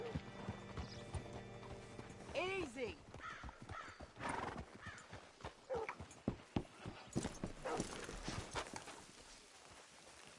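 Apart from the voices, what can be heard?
horse hooves and whinny in Red Dead video game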